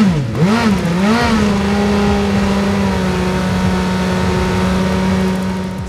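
Nelson Piquet's 1990 racing car engine revs hard at a Chelsea Autolegends show, sharp rising blips settling into a loud, steady high-pitched drone that runs without a break, close by.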